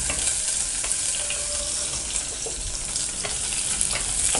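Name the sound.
shallots sautéing in a pan for sambar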